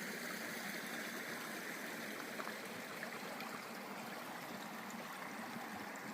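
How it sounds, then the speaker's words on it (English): A small mountain stream on a forest track flows in a steady, even rushing wash of water, close and continuous with no voices. "Decent little stream that should remain nameless."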